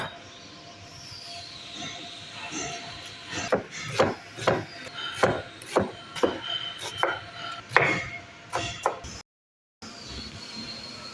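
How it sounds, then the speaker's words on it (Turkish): Onions for a green lentil dish are chopped with a knife on a board in about a dozen sharp, rhythmic strikes close by, then a short silent gap before faint kitchen background resumes. "İlk olarak soğanlı yeşil mercimeğimiz için doğruyoruz."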